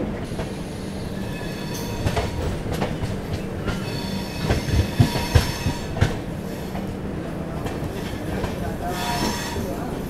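The Visakha Express passenger train runs on rails near Vizianagaram with a steady loud rumble, rhythmic clacking of wheels over joints and some metallic squeal, continuous throughout.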